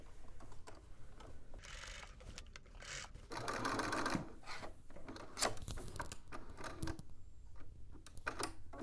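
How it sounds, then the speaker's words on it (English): A home sewing machine stitches down a garment hood along existing seam lines in short bursts of rapid needle chatter, with pauses, fabric rubbing and handling noises in between, close and moderately quiet. "we're going to follow along those stitching lines that we've already created to base down our hood"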